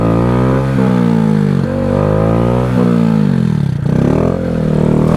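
A Honda Grom motorcycle engine revs hard and loud at close range during a wheelie, its pitch rising and dipping repeatedly as the throttle is worked on and off, with a brief drop near the end.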